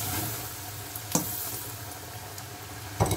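Second batch of popcorn chicken frying in hot oil, a steady dense sizzle throughout with a couple of sharp clinks or stirs near the start and end.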